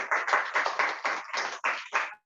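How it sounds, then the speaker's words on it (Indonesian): A small group claps for Bu Resti during a brand activation strategy session, with a quick run of about eight distinct claps close by and no one talking. "tepuk tangan buat Bu Resti"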